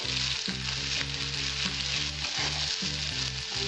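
Sliced bitter gourd with salt and turmeric frying in a pan, a loud, dense, continuous sizzle heard close up with a steady low rumble beneath and no talk.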